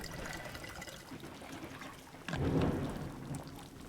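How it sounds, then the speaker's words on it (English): Thunder during a storm rumbles under steady rain, with a loud crack swelling midway and then rolling off, no voices present. "did you guys hear that thunder crack?"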